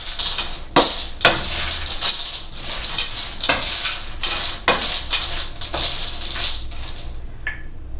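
Trail mix with mini marshmallows and M&Ms gets tossed and stirred in a bowl, a steady rattling patter of hard candies and pieces clattering against the container with repeated sharp clinks and shuffling bursts, close and continuous.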